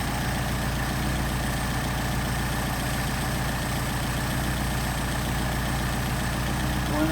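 Close by, a Mercedes 190SL with Solex 44PHH carburetors runs at a steady idle, a low, even rumble that continues unbroken with no one talking.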